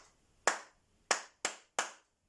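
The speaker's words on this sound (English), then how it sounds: "Let's see if you can clap it with me." Four sharp hand claps in a music lesson, set as one long beat, a short pause, then two quick claps and a final one, like crotchets and quavers; close, crisp and alone in a quiet room.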